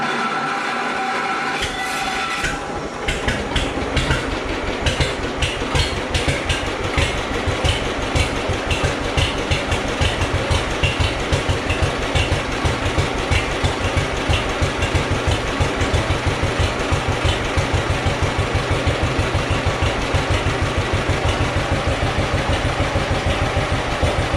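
A 1941 John Deere H tractor engine fires up after a brief start and settles into a loud, steady, rapid chugging run, close by and continuous with no voices.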